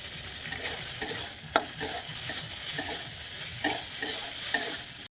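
Marinated chicken stir-frying in a pan with fried onion, ginger paste, black pepper paste, turmeric and salt for black pepper chicken: a steady sizzle with scattered spatula scrapes and taps, close and fairly quiet, no voices.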